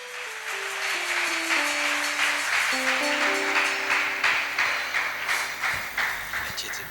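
A church wedding congregation applauds in a dense, steady wash of clapping that fills the whole stretch, with stepped organ or keyboard tones sounding underneath.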